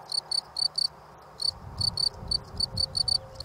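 A male large grasshopper stridulates by rubbing its wings outside its burrow, giving shrill, sharp bursts of chirps in quick clusters with short pauses, fairly close and clear over a faint low background.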